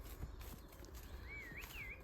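A horse in the Cotswolds countryside near Nottingham Hill, heard with faint, soft hoof thuds and shuffling close by on a rural walk, while birdsong rises and falls above a steady outdoor hum.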